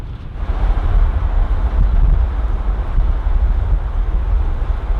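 Strong wind buffets the microphone outdoors at a rural market stop, a loud, continuous low rumble with gusting swells and no voices.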